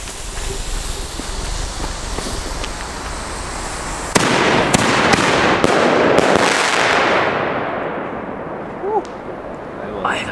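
Supreme Shots firework batteries launch outdoors in a quick volley of loud cracks and booms that follow one another closely, then fade as faint whistles and crackles trail off, with voices in the background.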